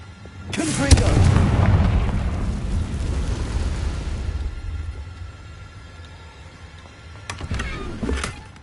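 A Confringo fire spell cast in the video game Hogwarts Legacy, heard as a loud, booming blast that rumbles for a few seconds and then fades, followed later by softer crackling bursts.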